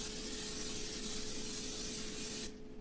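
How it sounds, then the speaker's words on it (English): An aerosol of cooking spray hisses steadily into a glass baking pan for a couple of seconds, then stops abruptly, close up and fairly quiet. "I'm going to spray it because I'm not sure if it'll stick"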